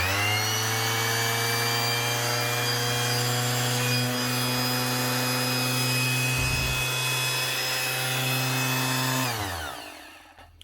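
A repaired 30-year-old heavy-duty Makita 9045N half sheet sander runs with a loud, steady electric hum and buzzing vibration, then switches off and winds down near the end.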